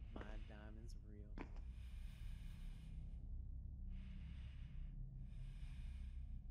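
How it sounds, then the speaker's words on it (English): Breathing in the horror video game VHS, heard as three long, breathy, hissing exhales spaced about a second apart, following a short burst of a player's voice at the start. "Why the fuck do I hear breathing?"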